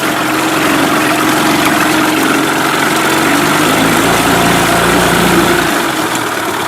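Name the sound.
Mercury 8HP outboard engine running in gear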